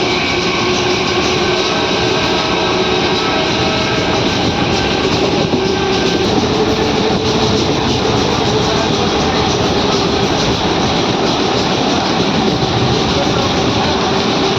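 A DEMU passenger train runs on the Raichur–Guntakal line with a loud, steady rumble and continuous track noise that never lets up.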